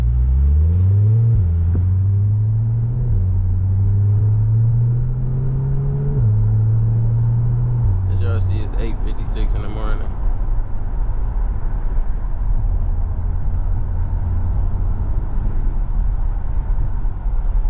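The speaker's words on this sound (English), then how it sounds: "The exhaust system they got on this is outstanding" Engine and exhaust of a 2023 Chevrolet Corvette C8 on the road, a deep rumbling drone that steps up through the gears with rising revs, then settles into a steady low cruise, heard from inside the car with a brief chime partway through.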